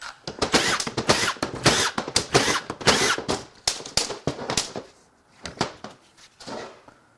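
A power tool takes apart the pump from a 2010 Toyota Corolla engine in loud, close bursts of rattling, hammering whirr, repeated in uneven pulses with short pauses between them.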